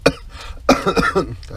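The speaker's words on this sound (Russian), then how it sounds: "до сих пор этот кашель не прошел" A man coughs twice, one sharp hack followed after a pause by a longer rasping fit, close by inside a riverside hut on the Pechora during late-autumn burbot fishing.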